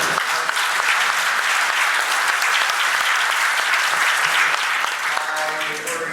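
A hotel conference audience claps steadily in a dense, loud wash of applause that holds for several seconds and tapers slightly at the end.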